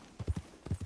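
Horse hooves in Red Dead Redemption 2 give two quick clusters of dull, close clip-clops, about three hits each, on a quiet background.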